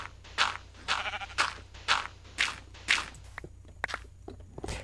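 Repeated sheep bleats in a video game, six or so wavering calls in a steady rhythm, close and clear, with a few short thumps and clicks near the end.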